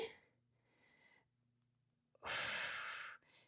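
Breathing during a full-body strength workout: a soft exhale, a pause, then one loud, long, forceful breath close to the mic, followed by a shorter, quieter one.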